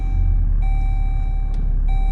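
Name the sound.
Jeep warning beeping after engine start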